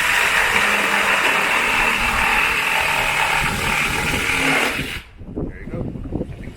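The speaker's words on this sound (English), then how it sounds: "I'll demonstrate how easy it is for us to go ahead and saw this off using this jigsaw" A Milwaukee M12 cordless jigsaw cuts through half-inch laminated plywood, a loud continuous buzzing rasp lasting about five seconds before it stops abruptly, leaving quieter knocks and handling sounds.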